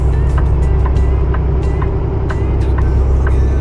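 An 18-speed semi truck drives down the highway, its heavy engine droning in a loud, steady low rumble with road noise, while faint clicks and ticks sound now and then above it.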